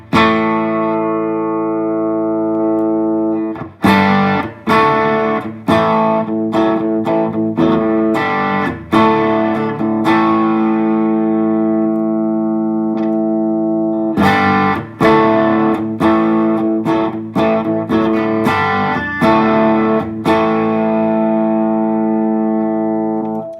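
Overdriven electric guitar through an Ibanez TS-9 Tube Screamer pedal, playing chords and single notes, strummed in bursts with short pauses, loud and saturated with a light echo tail, no talking.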